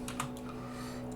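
Brief burst of typing on a computer keyboard, light quick key clicks heard close and fairly quiet, with no voices.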